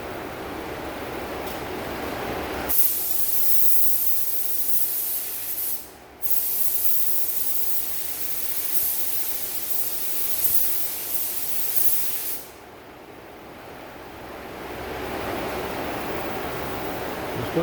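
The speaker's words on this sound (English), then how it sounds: "base coat next. I'm just going to focus on getting coverage over the primer," A spray gun lays base coat paint over primer on a 2016 RAM 1500 during scratch repair, a loud steady hiss in long passes broken by two brief pauses, close up and with no talking.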